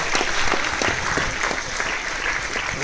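A crowd at the audio launch event for the Kannada film Melody claps loudly and continuously, a dense, close patter of many hands that holds steady throughout.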